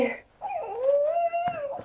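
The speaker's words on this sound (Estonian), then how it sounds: "Väike koerake." A small dog whimpers and whines in a long, wavering, high-pitched cry, close and fairly clear, with a couple of short yips breaking in near the end.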